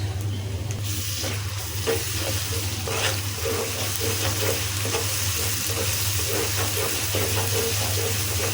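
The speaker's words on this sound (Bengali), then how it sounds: "আমি এটা দিয়ে দিব আদা রসুনের পেস্ট" Ginger garlic paste sizzling loudly in a hot pan, a dense continuous frying hiss with faint stirring scrapes throughout, with no voices.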